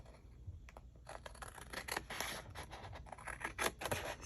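Scissors snip and slide steadily through paper while cutting pieces for travelers notebooks, a close, continuous run of crisp rasping cuts that grows denser and louder, with no talking.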